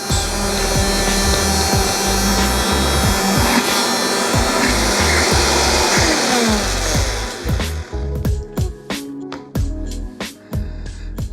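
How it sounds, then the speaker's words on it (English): A loud blender whir runs steadily, grinding and churning cauliflower into puree, then stutters and pulses in short bursts before easing off. "put it in a blender and let the blender do its thing"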